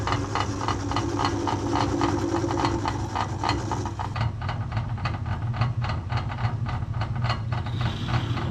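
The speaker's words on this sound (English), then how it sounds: "Dom's going to work his magic on the lathe." A lathe runs steadily while machining bicycle headset parts in a home workshop, a continuous mechanical hum with a fast rhythmic ticking and rattle. The pitch and texture shift about halfway through, and no one speaks.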